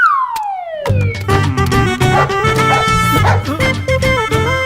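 A dog barks repeatedly amid a loud, busy mix of siren-like wails and dense tonal music, the barks coming in quick bursts close by and partly masked by the surrounding sound.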